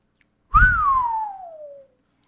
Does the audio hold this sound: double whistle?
yes